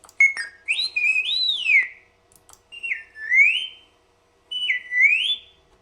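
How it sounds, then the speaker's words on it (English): R2-D2 droid whistles from an RC sound system: three separate electronic whistle phrases with rising and falling warbling sweeps, loud and close, with short silent gaps between them. "Five are all his whistles."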